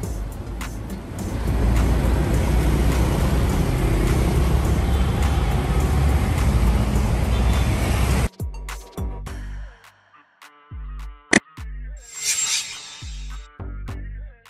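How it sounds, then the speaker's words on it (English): An airport bus idles with a loud, rumbling, steady engine for about eight seconds before it abruptly cuts out. A scatter of clicks, thuds and a short whooshing burst follows. "Airport bus."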